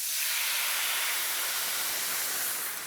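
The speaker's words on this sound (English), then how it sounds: "that big sizzle and bubble is good because we want to cook off the alcohol" A loud, continuous sizzling hiss of sherry hitting a hot pot, cooking off the alcohol, steady and close, fading slightly at the end.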